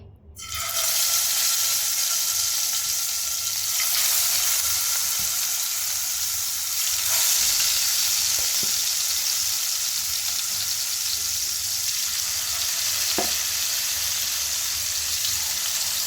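Pieces of rohu fish frying in hot mustard oil in a home kitchen, a loud steady sizzle that holds throughout with a few faint clinks, no voices.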